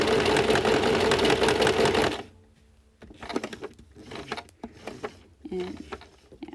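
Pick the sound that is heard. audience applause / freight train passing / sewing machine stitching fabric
sewing machine stitching fabric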